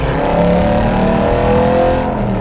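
An Aston Martin GT8 with a 4.7 engine drives hard on a track, a loud, steady, close engine drone with a rich layered tone that holds throughout.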